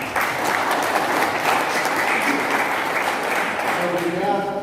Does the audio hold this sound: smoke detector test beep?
no